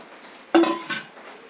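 A utensil strikes a cooking pot of chicken mince and small potatoes, a single sharp metallic clank with a short ring, then a softer scrape.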